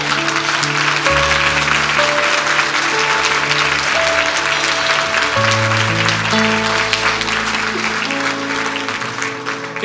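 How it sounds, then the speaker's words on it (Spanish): Congregation applauding during a church sermon, loud continuous clapping over sustained music with held organ or keyboard chords that shift in pitch, the clapping thinning slightly near the end. "dar un aplauso fuerte al Señor."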